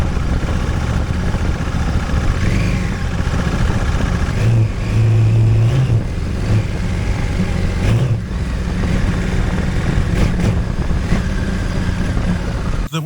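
Honda Africa Twin motorcycle fitted with Wilbers suspension accelerating uphill, a loud close engine roar that rises and shifts in pitch over wind rush for the whole stretch.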